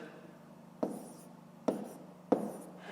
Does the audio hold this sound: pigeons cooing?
no